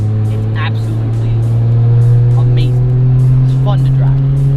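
A Toyota Supra engine pulls hard under acceleration, a loud, close, steady drone that swells slightly as it builds, with voices partly audible over it.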